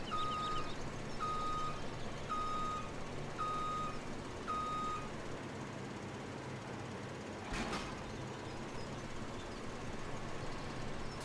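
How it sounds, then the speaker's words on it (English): A tractor reversing a header trailer in Farming Simulator 17 sounds five evenly spaced reversing beeps about a second apart, fairly faint over a steady engine drone, followed by a short thud. "Trying to reverse this header trailer is not something we're very good at."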